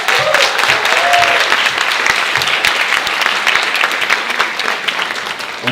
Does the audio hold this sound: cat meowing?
no